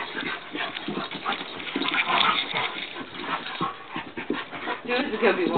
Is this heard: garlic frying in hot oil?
no